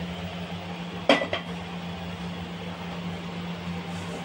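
A metal pan, used for roasting garlic, is set down and its contents tipped onto a plate: a sharp clatter and a second scrape against a steady hum of appliance noise, otherwise quiet.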